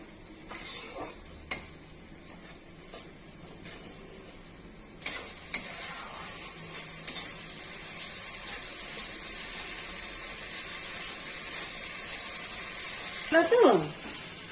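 Ground spice paste with turmeric frying slowly in a pan, a low continuous sizzle broken by the scrape and clatter of a stirring spoon, with a voice talking over it near the end.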